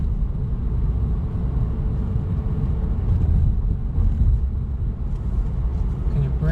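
A manual-transmission car cruising in third gear with a steady low engine drone and road rumble, even and continuous from inside the cabin.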